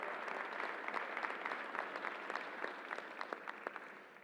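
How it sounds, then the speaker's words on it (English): An audience at a New York COVID briefing claps for a team in a short burst of applause. The clapping is fairly faint and stays steady with some sharp individual claps standing out. "Let's give a round of applause to the team who made this work."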